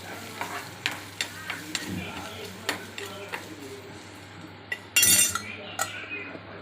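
Pan food for a Tamil New Year recipe being stirred and sautéed, a spoon clinking and scraping the pan in repeated strokes over a low sizzle, with one louder burst of clatter near the end.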